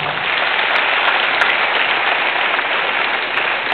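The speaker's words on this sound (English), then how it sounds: "please give them a big round of applause." A large audience at a graduation ceremony applauds loudly and continuously, a dense wash of many hands clapping at once with no pauses.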